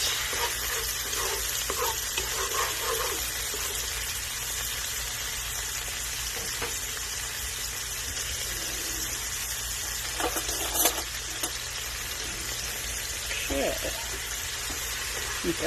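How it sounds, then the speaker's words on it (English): Garlic sizzles in a pan on the stove, a constant close crackle that runs without a break for about fifteen seconds. A few light stirring knocks and faint movement sit over it. "add our garlic to the pan. And let that simmer for a few minutes"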